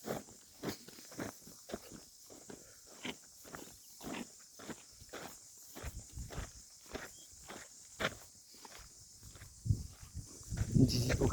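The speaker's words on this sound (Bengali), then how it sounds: "ঝিঝি পোকার ডাক কালকে যেটা শোনা যাচ্ছে" Crickets around the non-street trekking area at Naneghat keep up a steady high, continuous trill, heard beneath loud, rhythmic crunching footsteps of someone walking.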